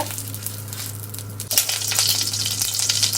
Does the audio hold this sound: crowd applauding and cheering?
no